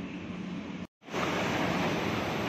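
Airport metro train in Dubai, a steady loud rushing rumble of the moving carriage with a brief sudden dropout before the noise resumes, no talking.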